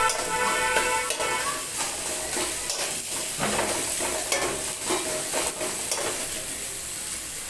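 Onions fry in a small amount of oil in a pan, giving a steady loud sizzle throughout, with scraping stirring strokes recurring every second or so and no talk.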